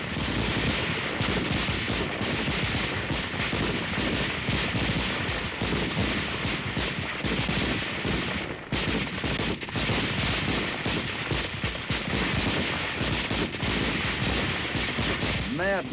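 Dense, continuous gunfire from a US Army weapons firepower demonstration by an infantry division's supporting units, a loud sustained roar of many weapons firing together with only a brief dip near the middle.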